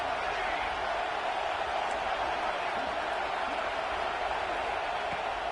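A stadium crowd in a football video game roars steadily during a red zone play, a dense, constant wash of cheering noise with no distinct peaks.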